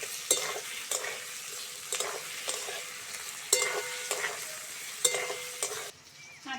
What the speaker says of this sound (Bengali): কাঁচা লঙ্কা, টমেটো আর পেঁয়াজটা হালকা করে নেড়ে চেড়ে নিয়েছি